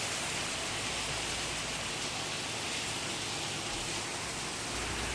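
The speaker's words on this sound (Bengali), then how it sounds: "বাইরে দেখো কি বৃষ্টি হচ্ছে" Steady rain falls outside, a dense, even hiss of drops that fills the whole stretch without a break, with no voices over it.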